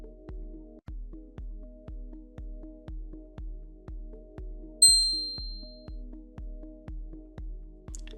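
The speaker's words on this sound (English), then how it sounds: "So this is the break reminder with a notification and sound." A bright two-tone chime from the Pointron time tracking app marks a break reminder, ringing once clearly over a steady rhythmic pulsing background of repeated low thumps.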